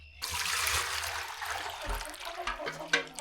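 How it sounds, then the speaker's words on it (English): Water spills and splashes from a container in a chicken coop, a short gush of liquid that starts abruptly and trickles off over a few seconds, fairly close and with no talk. "Oops, I'm spilling my water."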